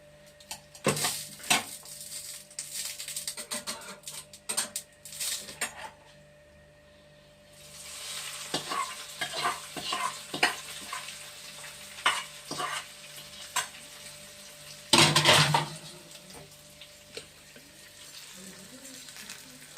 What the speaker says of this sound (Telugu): అదండి పెరుగన్నం తాలింపు పెట్టానండి